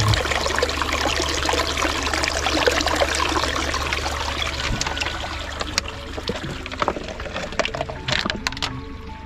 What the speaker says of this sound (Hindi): अल्लाह की कुदरत है कि पानी निकल रहा है